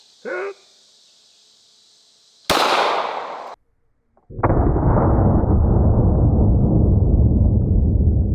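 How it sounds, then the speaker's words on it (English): A single sharp blast from a 9mm semi-automatic handgun loaded with 147 grain jacketed hollow points, loud and close, then a long roaring rumble that continues to the end. "we're going to start out with a 9mm semi-automatic handgun. This is 147 grain jacketed hollow points. I'm going to take the first shot"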